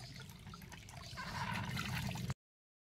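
Clear spring water flows down from the hills in a soft, continuous trickle and gurgle that swells slightly before cutting off abruptly, with no one talking.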